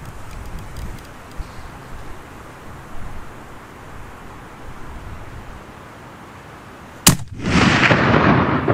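A single sharp rifle shot rings out in open mountain terrain, aimed at a chamois buck 731 yards away. It breaks a steady, windy quiet with one loud crack, followed by a sustained rushing noise.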